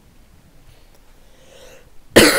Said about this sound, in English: I need to stop coughing, but I can't.